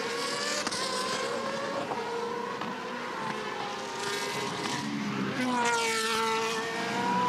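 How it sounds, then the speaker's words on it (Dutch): A 2005 GP2 race car at the Nürburgring drives through gravel, its high, whining engine loud and close, with rising and falling pitch sweeps and other cars passing over a continuous roar. "En alweer een auto door het grind"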